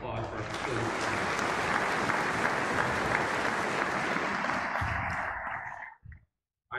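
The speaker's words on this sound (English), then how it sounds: "For a round of applause for our facilities department." A graduation ceremony crowd claps in a sustained, loud round of applause for the school's facilities department, a thick steady wash of hands that fades out near the end into a brief silence before a new sound starts.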